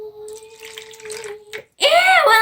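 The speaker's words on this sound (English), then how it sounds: "Let's pour the water in." Water is poured into a container during a squishy ball dissection, a short loud splashing gush that follows a quieter moment of a faint tone and light rustling.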